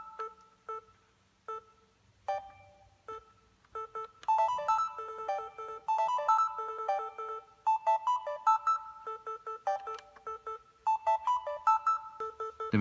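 A Yamaha Tenori-on plays a bright, plinky sequence of short electronic notes, sparse at first, then thickening into a busier repeating pattern as the tempo changes, with no voices present.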